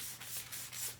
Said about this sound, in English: just scuff up all the edges with sandpaper on both sides